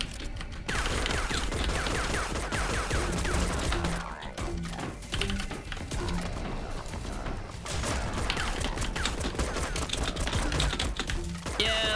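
Robots in Dust & Neon lay down dense, continuous gunfire, a rapid clattering rattle of shots that keeps going steadily throughout at moderate loudness.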